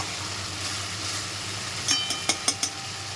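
Fish coated in masala cooks in oil in a pan, a steady close sizzle that gives way to a few sharp clicks or taps near the end.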